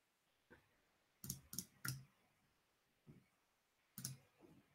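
Several faint, close clicks from a broken computer mouse, a quick cluster of three followed by scattered single clicks, in a quiet room with no talking.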